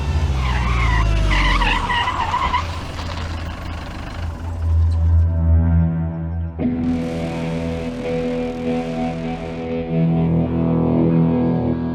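A car skids to a sudden stop in a TV drama scene, its tires screeching loudly for several seconds, with a distorted, effects-heavy tone and a lingering squeal as the car halts.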